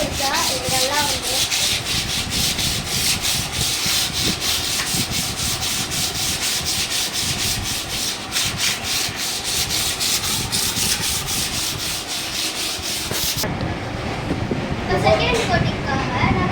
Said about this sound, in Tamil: இப்போ முதல்ல நம்ம எம்ப்ரி பேப்பர் வச்சு நல்லா தேய்ச்சிக்கலாம்.